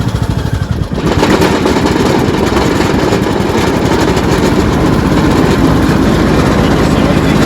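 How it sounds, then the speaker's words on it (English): Craftsman T2600 lawn tractor engine running at idle with the mower blade engaged, a loud, steady, close-up droning rumble that holds evenly throughout. "I'm going to try to run this at idle so you can hear me, but I'm going to go ahead and engage the blade."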